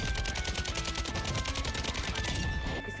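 Rapid automatic gunfire rattles without pause in a Call of Duty Warzone match, a dense steady burst of shots up close that fills the whole stretch and thins out slightly at the end, with no talk.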